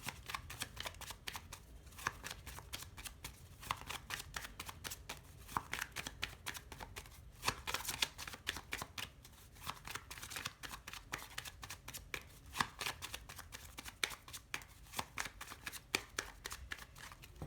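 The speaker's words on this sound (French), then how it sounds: "On va déjà commencer par une coupe." Tarot cards are shuffled and cut in rapid, continuous riffling flutters, close and fairly quiet, with no talking.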